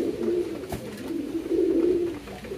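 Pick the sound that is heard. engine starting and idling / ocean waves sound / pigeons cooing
pigeons cooing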